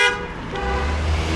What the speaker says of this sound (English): What the fuck are you honking at?